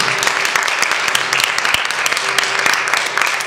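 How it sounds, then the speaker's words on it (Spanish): A church congregation applauds together, producing a dense, continuous patter of clapping that fills the space at fairly high volume with a few sharper individual claps standing out. "¿Cuánto le da un aplauso al Señor?"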